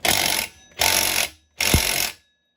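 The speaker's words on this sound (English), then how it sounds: "It's going to hold the rod up so it doesn't fly around and give us a little ratchet tightening." A ratchet wrench tightens the clutch on a Husqvarna 395 chainsaw during a rebuild, making three short, evenly spaced bursts of rapid ratcheting close by, with brief pauses between them.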